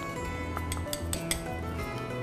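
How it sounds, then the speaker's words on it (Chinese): Pork ribs being stirred in soy sauce in a bowl give quiet clinks and scrapes of a utensil against the dish, a handful of light knocks at close range without talk. "我们把酱油稍微拌一拌哈，拌一拌泡一下"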